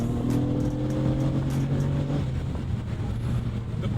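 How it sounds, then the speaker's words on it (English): Modified Honda Accord V6 exhaust held at full throttle, a loud, steady droning roar with strong low harmonics that sustains through the clip, rising slightly before easing off. "The proper V6 on its full throttle."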